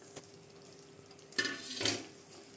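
A spoon stirs ground boondi into hot sugar syrup in a pan for motichoor laddu, with a few soft scraping swishes and a faint clink against the pot, all quiet and close.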